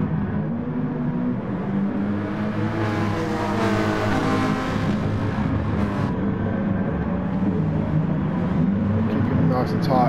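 A VW Scirocco Gr.4 race car at Fuji in Gran Turismo Sport, its engine droning and revving steadily while other cars whir nearby, with someone talking over it throughout.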